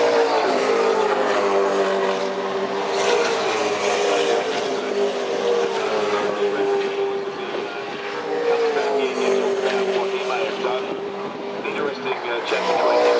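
A race car at Bathurst comes into the pits, its engine a loud, sustained whine that rises and falls steadily under continuous commentary.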